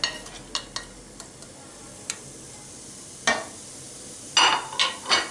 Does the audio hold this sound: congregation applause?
no